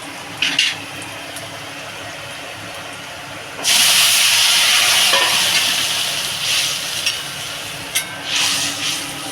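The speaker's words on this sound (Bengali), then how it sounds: "রসুনটা বেশ ভাজা ভাজা হয়ে গেছে ব্রাউন ব্রাউন হয়ে গেছে এবার আমি তরকারিটা ধরে দেবো" Fish-head curry with browned fried garlic sizzling loudly in a pan, a steady hiss that bursts up suddenly partway through as the curry goes in, with brief stirring scrapes over it.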